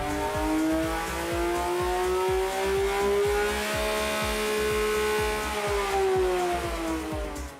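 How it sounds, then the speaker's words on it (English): The naturally aspirated engine of a 2021 Porsche 911 GT3 revs hard and steadily, a loud, close, sustained wail that rises and gently falls over a rapid mechanical pulse, with no talk over it. "This engine really needs no sound engineering."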